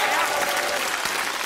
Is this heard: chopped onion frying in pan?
no